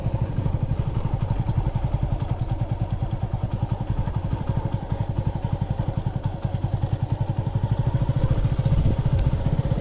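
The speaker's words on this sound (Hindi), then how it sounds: "मनाली मोटरसाइकिल" A motorcycle engine runs near Chandi Devi temple in Haridwar, a close, steady rapid thumping throb that holds even and loud for about ten seconds with no talking.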